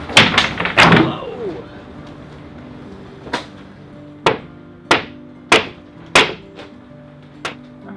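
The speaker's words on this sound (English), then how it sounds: "You wanna grab the sledgehammer and run up to the top and just give it a couple little tunks?" A sledgehammer tapping the wooden frames of a boat gives a quick cluster of heavy knocks, then a series of single sharp thwacks spaced about a second apart, ringing faintly between hits.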